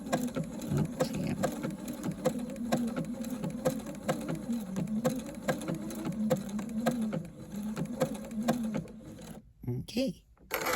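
A sewing machine runs a blanket stitch along turned-edge quilt appliqué, with a steady rapid rhythmic stitching hum throughout, close and fairly loud, stopping briefly near the end.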